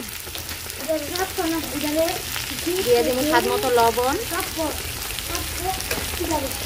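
Spices sizzle in hot oil for a hilsa fish head curry with winter beans, turmeric and chilli powder, a steady close crackling fry running beneath someone talking throughout.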